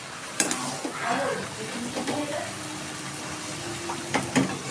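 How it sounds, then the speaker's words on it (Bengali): Green and ripe apple-kul pickle with jaggery being stirred in a pan, a soft sticky sizzle with a few spatula knocks and scrapes, close and moderately quiet. "গুড় দিয়ে আমি আর একটু সময় নাড়াচাড়া করব"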